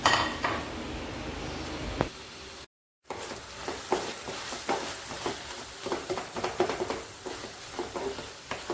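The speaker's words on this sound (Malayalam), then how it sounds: "രണ്ട് തക്കാളി കട്ട് ചെയ്തത് ചേർത്ത് കൊടുക്കണം ചേർത്ത് കൊടുക്കാം എന്നിട്ട് നന്നായി മിക്സ് ചെയ്യണം" Chopped tomatoes are stirred into onions in a pan for a quail egg roast. A spatula scrapes and clatters steadily over a soft sizzle, with one short gap partway through.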